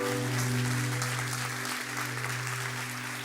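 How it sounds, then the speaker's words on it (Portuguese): A church congregation applauding during a sermon, a steady wash of clapping from the room, fairly quiet and distant, with a low sustained organ or keyboard drone running underneath throughout. "Dê o melhor aplauso que você pode dar ao Senhor."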